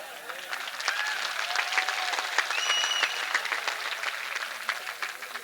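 Dense, continuous applause from a crowd at a national unity conference address rolls on for several seconds, moderately loud, with a few faint voices and whistles scattered through it.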